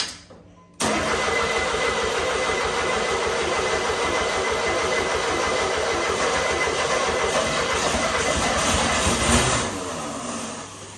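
A Pontiac Fiero engine cranks and runs rough on a shot of two-cycle gasoline poured into the carburetor, a loud steady mechanical roar that starts abruptly after a brief pause and holds for about nine seconds before easing off.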